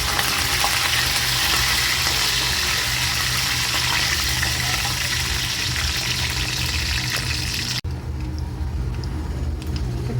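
Two dried red chillies and curry leaves frying in hot oil in a Telugu kitchen, a loud, steady, dense sizzle that runs unbroken before dropping away sharply near the end.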